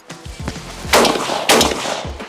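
An Altobelli double-barrel shotgun, a Turkish-made gun, fires two sharp, loud blasts about half a second apart outdoors, each followed by a brief echo tail and preceded by faint mechanical clicks.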